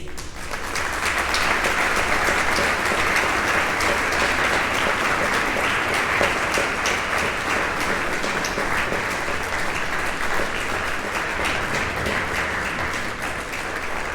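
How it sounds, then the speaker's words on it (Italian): Sustained audience applause at a New Year's concert as the conductor, Ivan Villanova, walks out, a dense, even wash of clapping from a large hall that holds steady for the whole stretch with no voices over it. "il direttore Ivan Villanova, che chiedo un grande applauso"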